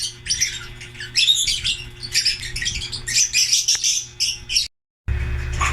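Pale fallow pet birds, kept paired for breeding, give busy rapid squawks and chirps almost throughout, loud and close, then a short silent gap before a final burst.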